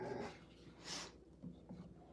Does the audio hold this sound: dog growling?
yes